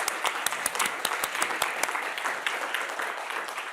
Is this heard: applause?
yes